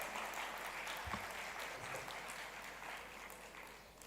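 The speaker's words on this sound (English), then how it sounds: "Give him a big round of applause," An audience at the Y20 India Summit in Varanasi gives Tejasvi Surya a faint, distant, steady wash of applause, with one low thump partway through.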